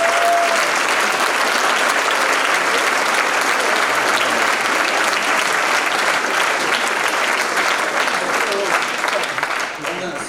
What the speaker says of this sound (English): I'd like another round of applause for the college to recognize